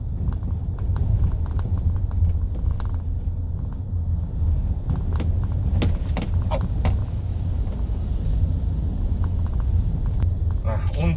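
Mitsubishi Xpander front suspension knocking over a rough road at under 20 km/h: irregular dull knocks and clunks scattered through steady low road and cabin rumble, some louder, some fading.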